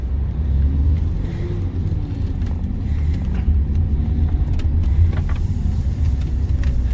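Toyota Veloz car making a U-turn on the road, a steady low engine and road rumble heard from inside the cabin with faint interior clicks and no talk.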